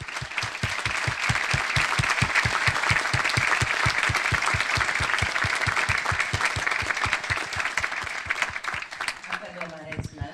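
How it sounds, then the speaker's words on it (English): A large audience claps together in sustained applause at a speech event, a dense, loud, steady roar of many hands that carries for about ten seconds and tapers slightly at the end. "Please give me a round of applause"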